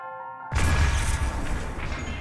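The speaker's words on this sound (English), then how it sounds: "It's another cannon." Cannon firing in Breath of the Wild, a single loud booming blast after a short quiet tonal lead-in, followed by a rumbling, fading tail.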